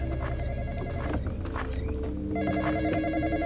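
A telephone rings with a repeating electronic bell pattern in the Roblox horror game Graveyard Shift, steady and prominent over game background sounds, with no voices.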